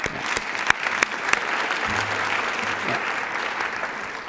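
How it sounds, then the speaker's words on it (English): Audience applause at a Binance keynote, a few sharp individual claps standing out at first before blending into a steady wash of clapping from the crowd. "let's give a round of applause to Tron"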